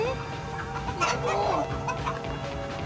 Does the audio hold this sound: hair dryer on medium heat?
no